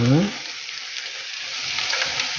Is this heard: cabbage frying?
yes